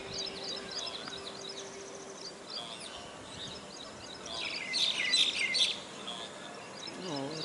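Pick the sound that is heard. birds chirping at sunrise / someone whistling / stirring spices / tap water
birds chirping at sunrise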